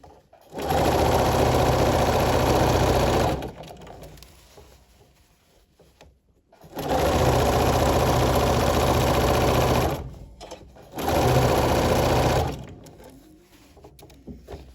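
A sewing machine stitches a garment side seam in three steady running bursts, close and loud, separated by short pauses with faint handling sounds.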